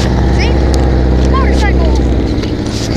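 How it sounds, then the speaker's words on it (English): A dirt bike engine drones loud and steady throughout at close range, with a few brief high voices chirping over it. "Motorcycle. Ah, that's more of a dirt bike."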